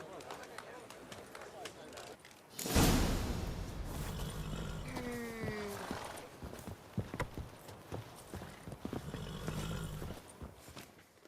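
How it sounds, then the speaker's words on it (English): Horses in The Witcher 3 video game: hooves clip-clop at a trot, with a loud rush of movement about a third of the way in, while voices talk over the steady hoofbeats. "Can't decide between the black stallion and the grey mare."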